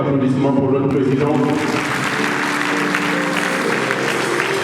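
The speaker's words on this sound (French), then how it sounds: "Encore des applaudissements pour notre président." Applause swells at an academic graduation ceremony, starting under a speaking voice and building into a thick, continuous crowd clapping that stays loud throughout.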